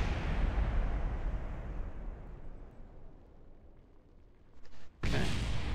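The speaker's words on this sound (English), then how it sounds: "I was just about to say it's going to start exploding soon and beaten to the punch by the booms" Explosions burst during a capsule's fiery atmospheric reentry in the space game Kerbal Space Program, a heavy roaring rumble that slowly fades, then a fresh loud blast cutting in near the end.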